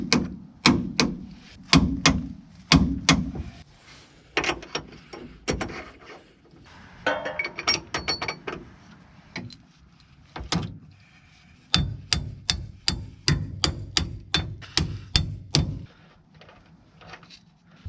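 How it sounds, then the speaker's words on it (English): A wrench tightening leaf spring shackle bolts to 80 foot-pounds on a first-generation Cummins truck, heard as rapid bursts of sharp metallic ratchet clicks in several runs with short pauses between, close and clear with no talk. "I'm going to tighten these bolts down to 80 foot-pounds"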